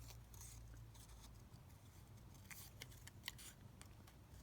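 Scissors trimming leftover paper scraps, faint close snips and rustling crinkles scattered irregularly over a quiet background.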